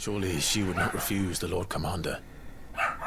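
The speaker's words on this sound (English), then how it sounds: "Sorry for my dog's barking." A dog barks repeatedly in a rhythmic series of sharp yips close by, overlapping a voice speaking from a Final Fantasy 16 playthrough, then the barking stops and quieter sounds follow.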